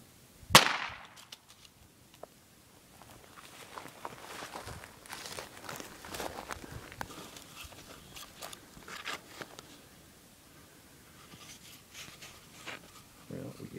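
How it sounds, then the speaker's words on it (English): A single sharp crack from a .22 Ruger pistol fired at a Fiber Fix wrap target, then quieter handling and shuffling noises with faint voices. "22 pistol, 22 Ruger."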